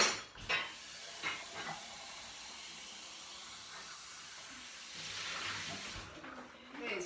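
Water hisses and splashes while a container is rinsed out in a kitchen, with a few clinks of the container and a steady rushing stream that swells near the end.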